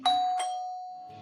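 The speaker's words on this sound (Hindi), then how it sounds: "उतनी ही देर में डोरबेल बजी।" A home doorbell chimes two tones, then the second tone rings out long and clear in a quiet room, with faint noise returning at the very end.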